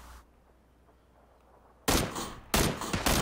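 Bursts of automatic gunfire in PUBG on Xbox, two loud rapid volleys that arrive after a quiet stretch, close and harsh with no talk over them.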